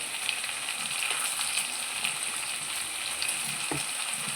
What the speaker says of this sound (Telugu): వేసేసుకొని పచ్చివాసన పోయేంత వరకు ఫ్రై చేసుకుందాం.